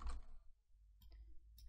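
A single faint mouse click sounds in a quiet room during Unity editor work, followed by a soft second tick.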